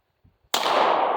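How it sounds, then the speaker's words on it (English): A single loud pistol shot at a shooting range, a sharp close crack that rings out and carries on for the rest of the moment, after a couple of faint mechanical clicks. "Bring the pistol up and then put your finger on the trigger when you're ready to shoot."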